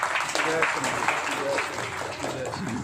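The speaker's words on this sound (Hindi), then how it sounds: "इनके नाम की थोड़ी तालियां बजा दीजिए" An audience claps in a steady wash of applause, with voices talking over it.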